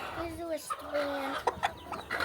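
Chickens cluck and murmur close by on a backyard flock while people handle the birds to fit leg bands, with soft vocal calls rising and falling and a couple of short sharp squawks, mixed with quiet talk.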